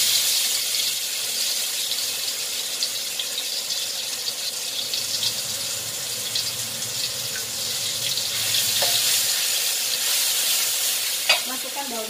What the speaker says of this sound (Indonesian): Ini sekarang bumbunya yang sudah saya ulek tadi kita goreng.